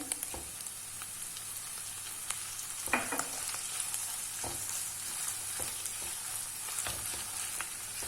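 Diced tomatoes sauté in a pan with meat for alinazik kebab, giving a continuous close sizzle with scattered soft pops and crackles throughout.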